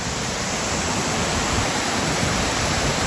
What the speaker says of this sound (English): when you come back and you see that waterfall right over here